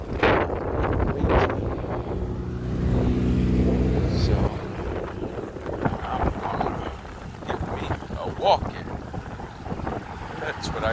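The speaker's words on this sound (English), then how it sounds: "Sorry for the wind." Heavy wind buffeting a microphone outdoors on Wethersfield Avenue in Hartford, Connecticut, a constant low rumble and roar with gusts swelling and easing, while a voice speaks faintly underneath.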